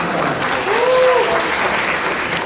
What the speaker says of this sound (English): Give a big round of applause to all the hackers that participated.